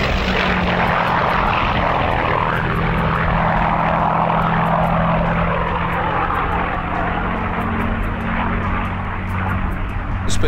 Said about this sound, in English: he flew the most famous fighter of all time, the Spitfire.